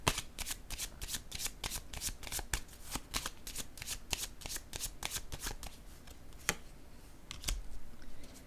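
Tarot cards riffle and snap through a long shuffle, a dense run of crisp paper clicks and flutters close by, with a few sharper slaps near the end as cards are laid down.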